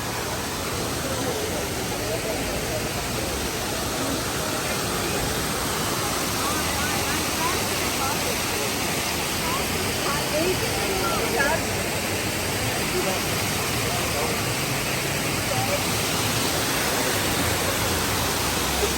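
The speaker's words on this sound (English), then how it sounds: "So let's go see up there where the waterfall is." Waterfall at a restaurant in the Kaghan mountains roars as a dense, steady rush of broadband water noise, loud and unbroken throughout with no clear talk on top.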